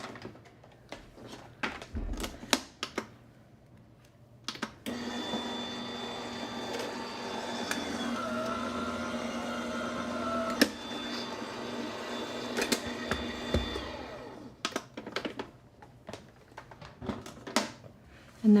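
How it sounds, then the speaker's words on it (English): A manual die cutting machine for papercraft runs with a steady cranking mechanical whir for several seconds in the middle, framed by scattered clicks, taps and handling noises nearby at a moderate level. "So let me grab my die cutting machine."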